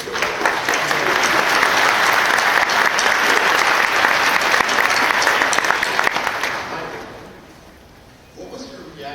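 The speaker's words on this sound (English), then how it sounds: "you deserve the biggest round of applause" Fans at a Battlestar Galactica convention panel give loud, sustained applause, a thick roar of clapping and some cheering that tapers off before a voice starts speaking.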